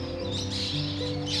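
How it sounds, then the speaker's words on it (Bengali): Birds chirp and tweet close by in the morning, with a steady high twittering over a constant low hum throughout the short stretch. "পাখিদের কিচিরমিচির"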